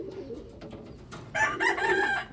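A female pigeon coos close by, a short throaty burst of soft rolling calls that rises in the second half, with faint handling noise before it and no speech.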